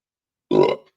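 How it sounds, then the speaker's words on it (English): A single loud, close burp, short and throaty, starting abruptly after silence and fading quickly. "but there was a burp."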